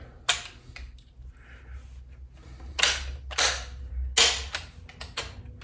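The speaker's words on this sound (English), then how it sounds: "That lever popping open easily" Mechanical clicks and snaps from a Greener EG Mk III police shotgun as its lever pops open and the action is worked, several sharp metallic clacks spaced through a quiet room, close and fairly loud.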